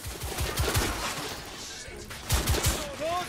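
Machine gun fire in The Order: 1886: bursts of rapid shots, fairly close, with busy background clatter and voices talking over the fire.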